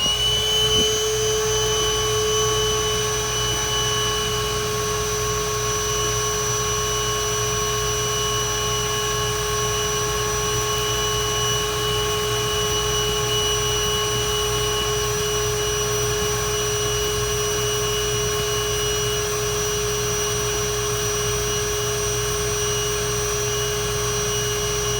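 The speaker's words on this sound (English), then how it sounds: "let's see what happens when we put our vacuum on" Shop vacuum running steadily on a clogged HVAC condensate drain line, a constant loud whine with sustained tonal hum that holds unchanged throughout, no talking.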